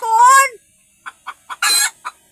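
A hen inside a car, trying to lay an egg on the backseat, gives one drawn-out squawk and then a series of short, sharp clucks, all loud and close, with quiet gaps between them.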